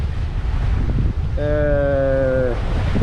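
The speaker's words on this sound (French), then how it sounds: "le vent est monté à 24 nœuds" Strong wind at sea while sailing near Pico island in the Azores, gusting to about 24 knots, roars steadily across the microphone with wave wash beneath, and a brief harmonic whistle or tone rises out of it midway.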